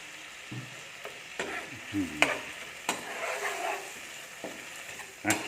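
Beef stir-fried with bitter herbs in a pan is turned with a utensil, giving scattered scrapes and clanks against the metal over a quiet background sizzle; no speech is heard.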